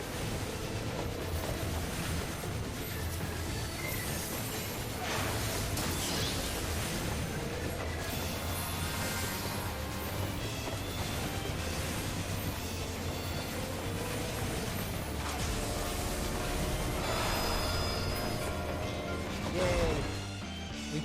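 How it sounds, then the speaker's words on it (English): Combat against a train boss in Final Fantasy XIV, a dense, continuous wash of game effects with crashes, rumbling mechanisms and impact hits, with faint voices underneath. "Yay! We punched the train!"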